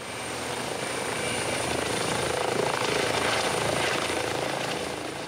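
Steady helicopter rotor drone throughout, a dense broadband roar with a high whine, fairly close and continuous without talk, as a helicopter evacuates victims from a road accident.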